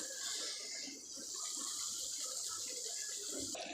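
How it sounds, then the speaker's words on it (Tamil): Water poured into a pot of chicken curry, a steady hissing, splashing stream that runs continuously and cuts off abruptly near the end, heard alone without talk. "நம்ம தேவையான தண்ணி சேர்த்துக்கலாம்"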